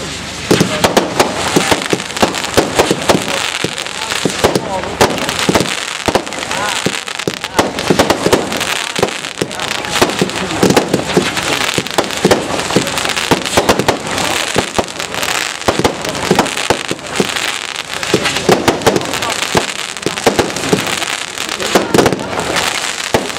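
Silver swirl rising shells, calibre 30, burst at a fireworks display, giving a dense, continuous barrage of crackling and popping bangs that never lets up for over twenty seconds.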